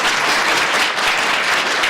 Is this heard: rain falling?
no